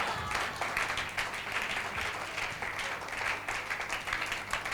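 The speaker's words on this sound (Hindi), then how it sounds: "इतनी जोर से ताली बजाई है" Hands clap loudly and steadily as a church congregation applauds, a dense, even wash of clapping filling the room without a break.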